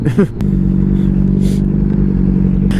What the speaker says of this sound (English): Sure, but I'm on a motorcycle.